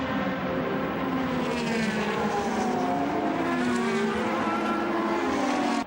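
Le Mans Series race cars, a Peugeot and a Lola Aston Martin, braking hard in 2008 racing: a continuous, loud blend of high-revving engines with pitch sweeping down and up as they downshift and accelerate away.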